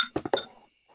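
A water bottle being drunk from lets out three quick squeaky, chirping, bird-like notes in a row, close and fairly quiet, followed by a soft fading tail.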